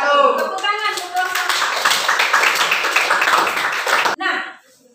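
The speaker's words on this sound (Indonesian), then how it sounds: "Tepuk tangan untuk" An audience claps steadily for about four seconds at a teacher performance-test session of a university teacher-training programme, with voices talking at the start and the clapping cutting off abruptly into quieter talk.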